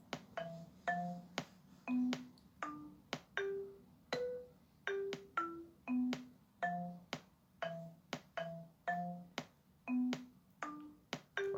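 A programmed drum pattern plays in music software, a steady run of short electronic hits with pitched blips over a low thud, repeating evenly at close range with no talking.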